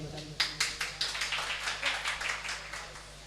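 Sparse audience clapping at a mimicry performance at an open mic event, a dozen or so distinct claps in a loose rhythm, fading toward the end, fairly close and moderately loud.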